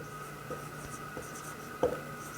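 Chalk or marker scratches briefly and faintly on a board during a classroom chemistry lesson, with a few soft strokes and taps in a quiet room.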